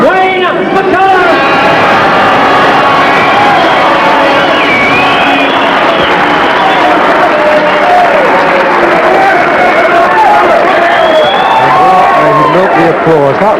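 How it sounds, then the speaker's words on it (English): A large boxing crowd cheers and roars steadily after a fight is stopped, a dense continuous wall of voices with whoops rising above it, while an announcer talks over the noise. "The applause."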